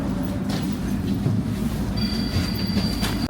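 A Prague tram pulls into a stop at night with a continuous low rumble of wheels and motor, joined partway by a thin high squeal from the rails, close and fairly loud.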